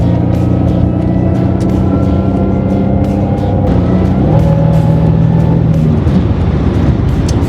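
A 1998 Pontiac Grand Prix GTP on the road, its engine and tire noise forming a steady interior drone with low harmonic hum and a brief rising note midway, continuous throughout with no talk.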